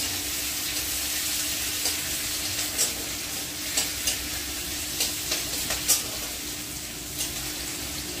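Onions frying in a pan for chili chicken over lowered gas, a steady soft sizzle with occasional small crackles and stirring sounds, fairly quiet and close.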